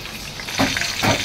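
Whole cumin, bay leaf, cloves, two cardamom pods and garam masala crackle in hot oil at the start of a mutton yakhni pulao, a steady close sizzle that swells into two louder bursts.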